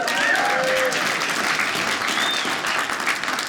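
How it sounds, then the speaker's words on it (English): Comedy club audience gives a short burst of steady applause during a stand-up special, dense clapping that stays even for a few seconds before starting to thin out. "Round of applause for rescuing an animal."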